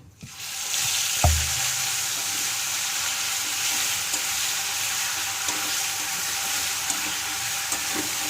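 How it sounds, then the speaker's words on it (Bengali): Onion paste hits hot oil in a pan with a sharp initial splash, then settles into a loud, continuous hiss of frying with occasional small pops. "তো তারপর পেঁয়াজ বাটা দিচ্ছি"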